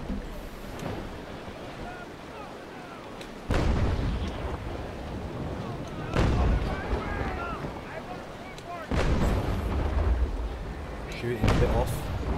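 Naval cannon fire from sailing warships in Naval Action, with several heavy booming broadside blasts near 3.5, 6, 9 and 11.5 seconds over a steady sea-and-wind wash, with talking throughout.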